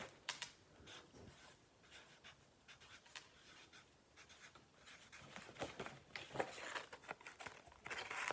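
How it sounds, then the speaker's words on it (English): Pen or marker writing a word on a card, a soft, faint scratching and rubbing that comes in short strokes and grows a little busier toward the end, close by with no talking. "Banana. I'm gonna write that down."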